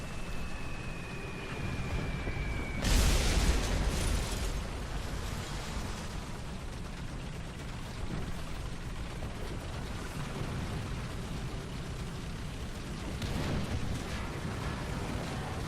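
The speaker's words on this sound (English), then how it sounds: "He's going to drop a bomb on me here." A bomb dropped from an aircraft explodes in a War Thunder tank battle, a single loud blast near three seconds followed by a long rumbling roar amid continuous battle noise.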